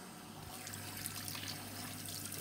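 Hot tap water runs in a bathroom, a faint steady trickling pour that stays constant for a couple of seconds with a low hum underneath and no talking.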